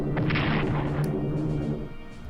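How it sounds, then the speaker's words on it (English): Bombs strike tanks in the strategy video game Strategic Command, a loud booming impact with a crackling burst that fades into a low rumble over about two seconds. "And they try to bomb my tanks."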